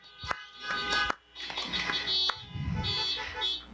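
Car horns honking as applause at an outdoor awards ceremony, a dense jumble of overlapping toots and blares from many vehicles, some short and sharp, others held.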